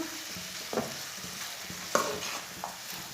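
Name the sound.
stirring egg and green peas masala with a spoon in a pan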